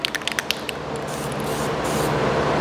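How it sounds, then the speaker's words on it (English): An aerosol can clicks a few times, then releases a steady close hiss while black paint is sprayed onto Yamaha XS400 engine parts. "spraying black is the hardest thing because you're in the shadows and you never know where you've hit"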